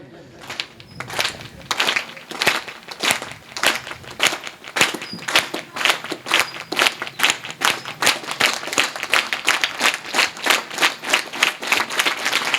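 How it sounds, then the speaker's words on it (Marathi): An audience at a Marathi kirtan gathering claps hands in a steady rhythm, the claps starting scattered and building into loud, regular beats that continue throughout with faint voices underneath. "टाळ्या जरा व्यवस्थित वाजवा ना"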